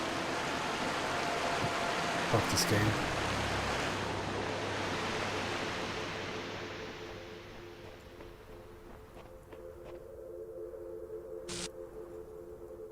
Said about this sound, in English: This is a waterfall.